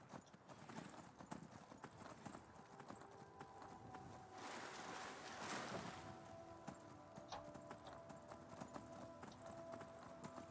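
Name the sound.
horse hooves clip-clop in Skyrim Dawnguard video game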